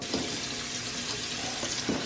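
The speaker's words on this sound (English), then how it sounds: "don't forget to run some cold water over it so the pasta doesn't continue to cook and get gummy" Cold tap water pours steadily over drained pasta in a strainer in a home kitchen, a continuous close splashing hiss with no talk.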